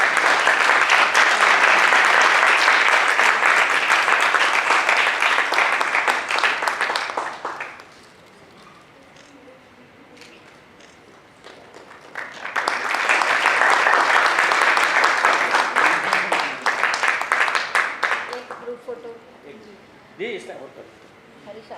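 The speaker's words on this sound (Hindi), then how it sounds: "जोरदार तालियों के साथ स्वागत।" Loud audience applause at a live drama performance greets the play's writer, two sustained bursts of clapping separated by a quieter pause with light talk.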